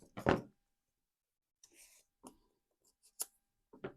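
Paper being cut with scissors for a woven paper heart junk journal craft, a few separate crisp snips spaced out, close and quiet against silence.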